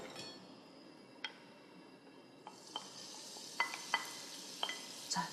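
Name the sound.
stir-frying seasoned beef and shiitake mushrooms in sesame oil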